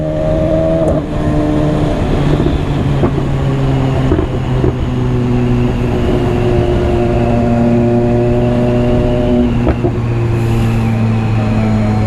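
A BMW S1000RR motorcycle engine revs hard and steadily, its pitch shifting at each quickshifter gear change, loud and close with no voices.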